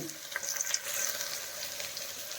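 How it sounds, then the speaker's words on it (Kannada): Ginger garlic paste frying in a hot pan, a steady, close hiss and crackle of sizzling with a few light stirring clicks near the start, no voices. "ಒಂದು ಅರ್ಧ ಟೇಬಲ್ ಸ್ಪೂನ್ ಆಗೋಷ್ಟು ಶುಂಠಿ ಬೆಳ್ಳುಳ್ಳಿ ಪೇಸ್ಟ್ ಹಾಕೋತಾ ಇದ್ದೀನಿ"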